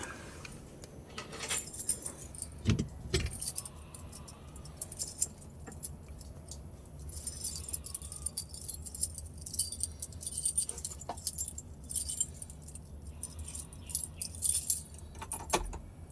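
Metal car keys jangle and rattle in the ignition of a Suzuki Scrum during work on its combination switch, clinking in several bursts with quieter handling sounds between, close and alone without talk.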